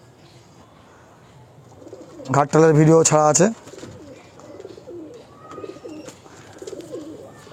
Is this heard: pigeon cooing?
yes